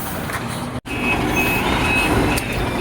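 A truck being parked gives repeated reversing beeps, loud and close over a steady diesel engine rumble, with no one talking.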